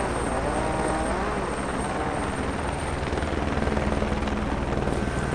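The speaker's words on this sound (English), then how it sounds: "That's why you can hear a helicopter, because there's a helicopter filming it" Helicopter filming a rally stage in the video game WRC 8, a steady loud rotor drone with rapid chopping pulses and engine whine, continuous throughout with no talk.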